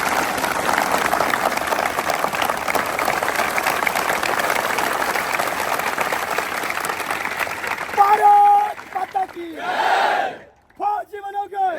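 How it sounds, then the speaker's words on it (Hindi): A crowd at a physical training academy claps and cheers loudly for a recruit who passed army tests, the dense applause breaking off near the end into shouted voices. "एक बार जोरदार तालियां"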